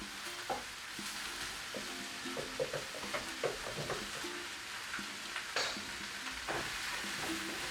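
Mushrooms frying in a pan with melted butter, a steady close sizzle under repeated scraping and stirring knocks from a utensil, with no talk.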